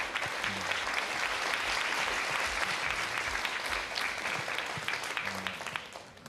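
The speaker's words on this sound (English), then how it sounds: "I'd like to welcome a round of applause to our HSP children sitting at the back." An audience at a brain education symposium at the UN headquarters applauds the HSP children seated at the back. The clapping is dense and sustained, with a faint low hum beneath it, fading toward the end.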